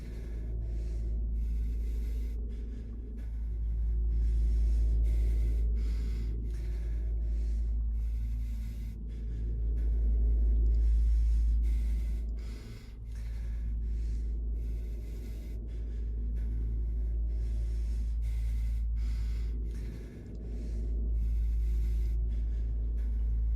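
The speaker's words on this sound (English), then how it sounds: "hearing him breathing over and over and over again" A character breathing in the Silent Hill video game, slow heavy breaths rising and falling in a steady repeating cycle over a low droning hum, no talking.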